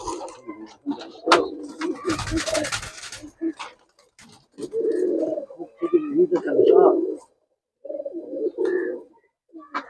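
Murshidabadi tumbler pigeons coo in low, throaty bursts close by, with short pauses between, alongside some wing flutters and brief rustling.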